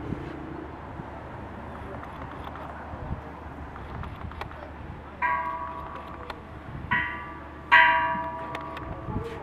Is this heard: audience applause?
no